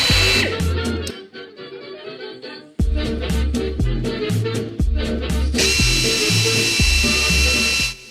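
A power tool trims the housing of a custom LED light, with short buzzing bursts and then a longer sustained grinding whine near the end, close and loud over background music.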